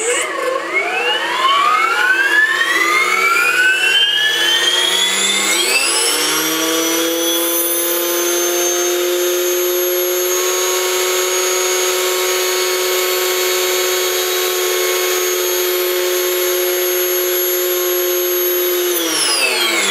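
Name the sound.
RC helicopter spooling up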